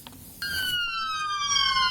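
A medical ambulance from the United States sounds its siren in Toubakoura, a loud steady tone that kicks in abruptly and holds, with faint road rumble beneath.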